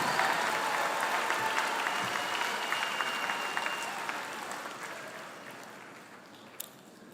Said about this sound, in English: One more round of applause for the 2023 graduates of the full-time two-year